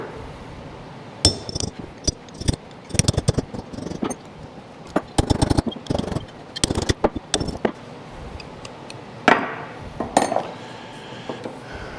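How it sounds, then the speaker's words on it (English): Metal-on-metal hammer strikes drive wheel bearing races out of an IH 1086 wide front axle, sharp clanging hits in irregular bursts, some rapid clusters, ringing in a quiet shop. "I have to drive the races out of here"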